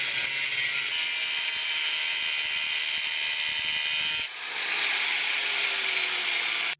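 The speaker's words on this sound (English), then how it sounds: "Now I'm going to grab my die grinder with a metal cutting blade and I'm just going to chop it off." A die grinder fitted with a metal cutting blade cuts through a prop sword blade, giving a loud, continuous, high-pitched grinding screech close by that briefly dips, resumes and then stops abruptly.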